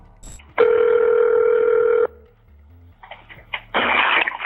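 A phone call back rings once as a long, loud tone. A pause follows, then a brief burst of noise as the line clicks through toward voicemail.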